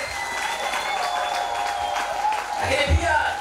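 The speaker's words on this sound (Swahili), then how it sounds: "Piga makofi tena ya shangwe." A church congregation claps and cheers during a Sunday service, steady applause filling the room for several seconds with a voice speaking over it.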